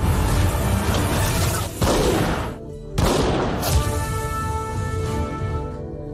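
A gunshot rings out in a tense film revenge scene, loud sharp impacts and crashing bursts over a dense music and effects bed, with two abrupt cracks close together midway.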